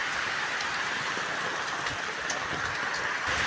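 Heavy rain from an approaching typhoon pours down in Pilar, Bataan, Philippines, a dense, constant hiss, with drops drumming steadily on a surface nearby and no voices.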